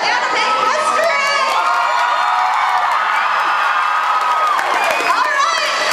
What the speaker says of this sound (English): Cheer for your favorite parts